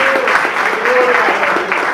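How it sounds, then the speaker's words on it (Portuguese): A church congregation claps together in praise during a Portuguese-language sermon, a dense, loud, steady patter with a voice carrying over it. "Só quem está selado pelo Espírito Santo aí, aplauda o nome do Senhor Jesus."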